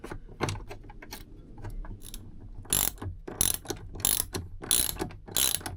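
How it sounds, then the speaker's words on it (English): Metal ratcheting clicks from a wrench tightening the mounting bolt that holds a 350 amp fuse in a Renogy solar kit inverter install, coming in short bursts that grow louder and sharper in the second half, with no talking. "Slip that over the bolt and then tighten everything down."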